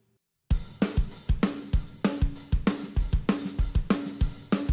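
After a brief silence, a drum kit comes in with the same beat played with a swing: a loud, close kick, snare and cymbal groove in an uneven, lilting rhythm. It runs for about four seconds with no voices.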